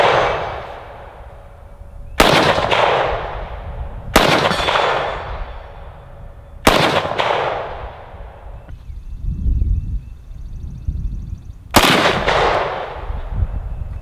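Four loud, close gunshots from a polymer Kel Tec CMR-30 rifle fire at uneven intervals outdoors, each a sharp crack followed by a decaying echo, with a faint distant metallic ring between shots.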